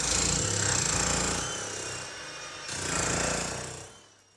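Loud mechanical hammering from a generator-powered jackhammer breaking up an indoor floor, a dense continuous rattling roar that eases briefly midway before surging again, then trails off at the end; no talking.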